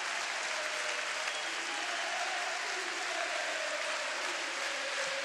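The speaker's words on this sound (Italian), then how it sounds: "si alzano in piedi i tifosi di Pesaro, il tutto palazzetto, e comincia ad applaudire" Dense, sustained applause from home basketball fans fills an indoor arena in Pesaro during a 2007 finals game, steady and loud, with a faint crowd murmur beneath it.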